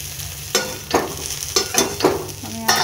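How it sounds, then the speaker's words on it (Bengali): Potatoes and onions sizzle in a pan while a spoon stirs them, making about six distinct scraping strokes over a soft, constant frying hiss. "আলু আর পেঁয়াজটা মোটামুটিভাবে ভাজা ভাজা হয়ে গেছে"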